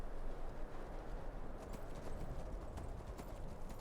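Horse hooves clip-clopping steadily in Skyrim's survival mode, a continuous rhythmic patter of hoofbeats at moderate level over a low rumbling ambient bed, with no talking.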